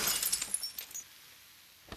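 Glass shatters in a film scene, a loud burst of breaking and tinkling shards at the start that quickly thins out, followed by a single faint thud.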